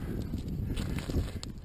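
A horse's hooves plod calmly along at a relaxed walking pace, soft irregular thuds on the ground that sit close by, with no one speaking over them.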